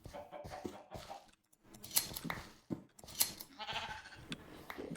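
Sheep bleating in a Minecraft pen, several short nasal bleats in an irregular sequence with gaps between them, fairly close and with no talking.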